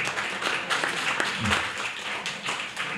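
An audience at a meeting applauds, a brief burst of moderately loud clapping from a modest crowd, with a dull low thump partway through.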